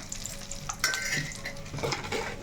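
Garlic frying in a small amount of oil for a coriander chutney, a steady crackling sizzle with soft stirring clicks of a spoon against the pan, close and continuous with no talking.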